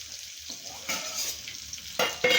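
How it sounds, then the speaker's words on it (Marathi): Masala paneer shallow frying in a pan over a very low gas flame, a steady soft sizzle with a few louder stirring scrapes near the end, close by and without talk. "आता हे शालो फ्राय करून घेऊ आपण।"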